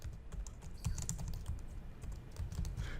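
Quick, steady typing on a computer keyboard, a close run of light plastic key clicks with no voices.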